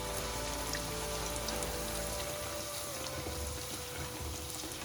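Bhature dough frying in hot oil gives a dense, constant sizzling hiss up close, steady and fairly loud throughout.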